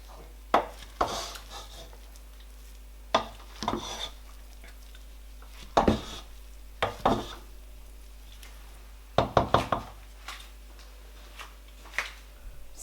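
Banga rice with fish being turned over in a pot, with a series of sharp clinks and scraping knocks of a spoon against the pot, spaced irregularly with quiet gaps between them.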